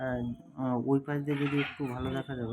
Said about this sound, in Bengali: ভালো কাউ কাউ করে ডাকছে।